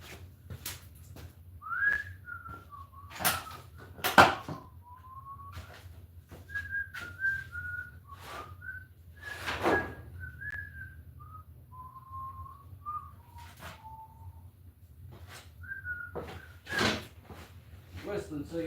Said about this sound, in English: Whistling so you know I'm still here with you.